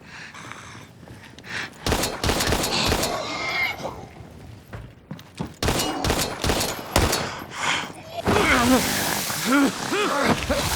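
Gunfire from the survival horror game Daymare: 1998 comes as clusters of sharp, loud shots and rapid bursts separated by quieter gaps, with a voice talking over parts of it and a noisy rain-like wash near the end.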